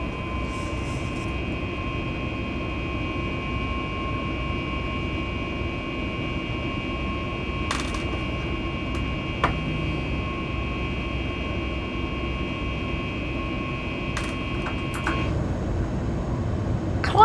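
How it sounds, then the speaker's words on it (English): A steady, droning Boeing 737 Max 8 jet engine in the X-Plane 11 flight simulator roars continuously while climbing, with a high whine over a low rumble, loud and unbroken. "Listen to that engine sound though."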